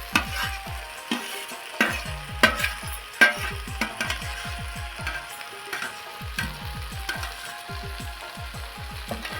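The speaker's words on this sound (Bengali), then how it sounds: "আর এখানে দিয়ে দিচ্ছে ভেজে রাখা মাশরুমগুলো।" Fried mushrooms stirred through a sizzling pan of mixed vegetables, with a steady frying hiss under repeated scraping strokes of a spoon against the pan, close and moderately loud, no talk.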